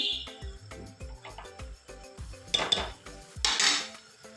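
A spoon knocks and scrapes rhythmically against a cooking pan while garam masala and other spices are mixed in, giving close, quick metallic clinks and a couple of brief scraping bursts, with no talking.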